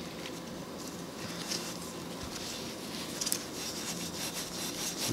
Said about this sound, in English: Just gonna use that and some steel wool to take off whatever dirt and oil might be on there.